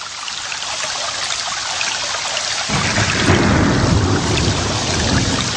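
Heavy rain pours down in the mountains, a dense, loud, steady roar of rainfall that thickens with a deeper rumbling wash partway through, with no speech.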